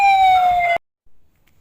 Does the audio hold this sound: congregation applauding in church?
no